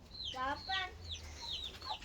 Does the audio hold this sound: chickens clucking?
yes